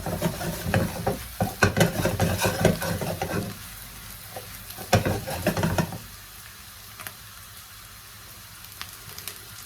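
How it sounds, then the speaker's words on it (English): Potatoes and onions fry gently in a pan with a crackling sizzle, loud bursts of stirring and scraping early on, then a quieter steady spatter, close by with no talking. "The potatoes are browning very slowly."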